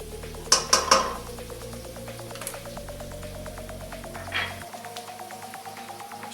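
A utensil stirring minced garlic in a pan, a few sharp clanks against the metal at the start, then a steady fine crackling sizzle underneath with a soft scrape later on.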